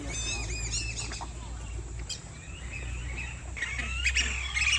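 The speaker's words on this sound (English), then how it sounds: "Flamingo." Birds calling at a bird park where flamingos are kept, with several bright chirps and honk-like calls over a busy outdoor background and faint voices.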